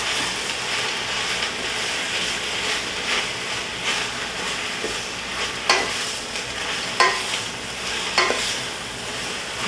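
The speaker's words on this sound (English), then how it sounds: "That's the spinach cooking. You hear that sizzling?" Spinach sizzles and crackles in a hot pan, a steady hissing fry with occasional louder pops and scrapes of stirring, close and continuous.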